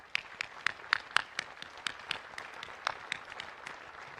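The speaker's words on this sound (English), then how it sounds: "it deserves another round of applause" An audience applauds at an outdoor Pearl Harbor anniversary memorial ceremony in Hawaii honoring World War II veterans, with scattered, uneven claps standing out over a steady crowd wash and no one speaking.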